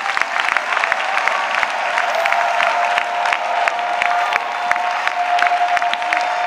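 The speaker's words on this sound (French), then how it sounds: "Let us clap." Congregation at a church prayer and intercession service clapping rhythmically and steadily throughout, a dense continuous patter of many hands with crowd murmur and a sustained held tone beneath.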